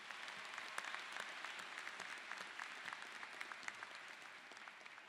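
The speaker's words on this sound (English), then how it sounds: "Let's give them a round of applause." Applause from the audience at a fall college commencement ceremony, a steady wash of many hands clapping for about five seconds, fairly distant and even, with no speech over it.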